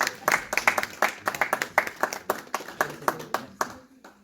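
An audience at a seminar workshop claps steadily, a dense run of sharp hand claps that stays loud and fairly even before thinning out at the end.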